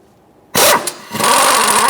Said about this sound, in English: I'm going to use a 19mm socket on an impact and remove the crank pulley bolt